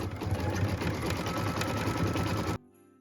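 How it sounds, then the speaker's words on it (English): A sewing machine stitching cream letters onto felt for a Christmas tree skirt, running as a steady, fast mechanical whir close up for a few seconds before stopping abruptly. "Now what we're going to do is stitch all of the letters in a beautiful cream color so that they really pop against those beautiful felt colors."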